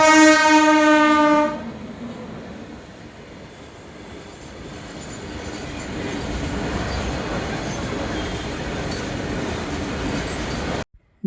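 A train passes a railway level crossing, opening with a loud blaring horn blast before settling into a continuous rumbling roar of cars rolling by nearby, steady and sustained until an abrupt end.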